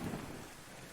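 Rain pours steadily with a low rumble of thunder in a spooky video game, a dense wash of noise that fades slightly toward the end.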